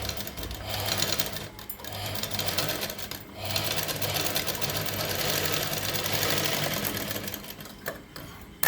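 Sewing machine stitching fabric set with stones, a steady close whirring rattle that runs almost without pause, with two brief stops partway through.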